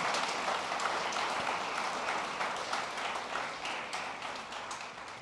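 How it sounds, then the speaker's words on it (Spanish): A church audience applauds for Jesus Christ with dense, sustained clapping that starts full and slowly fades. "démosle un aplauso al Señor Jesucristo"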